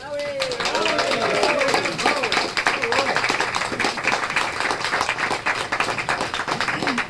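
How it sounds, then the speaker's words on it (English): Audience at an outdoor summer concert series giving a round of applause for an alto saxophonist, steady clapping throughout with voices and calls mixed in. "could you give us a little salute or round of applause for Howie?"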